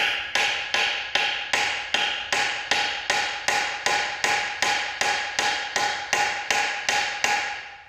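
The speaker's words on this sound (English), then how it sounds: "I'm going to hit it with a hammer." Steady metallic taps of a hammer striking a screwdriver, used to loosen a MerCruiser Alpha One pivot housing, about two per second in an even rhythm, sharp and close with a ringing tone, no voices.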